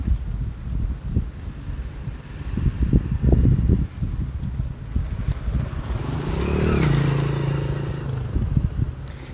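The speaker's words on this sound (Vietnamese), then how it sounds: "thì thật sự là gió nó khá là mạnh ha anh em" Strong wind buffets the microphone during a DJI Mini 4 Pro drone flight, making loud, uneven rumbling gusts, with a faint whining hum rising later and no talk.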